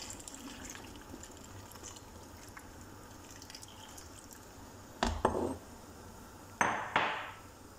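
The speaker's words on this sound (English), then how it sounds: "And now we put the lemon juice." Lemon juice is poured into a tuna fish mixture in two short, splashy bursts a second or so apart, rising briefly over a steady low background hum.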